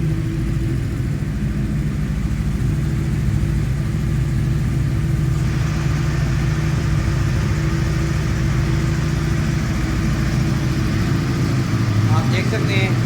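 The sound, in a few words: Yamaha R1 motorcycle engine idling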